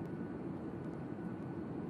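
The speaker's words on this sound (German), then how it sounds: "Ja, schönes Flugzeug von der Lufthansa." A Lufthansa airliner flying in the survival video game The Forest makes a steady, dense, low roaring drone that holds even throughout.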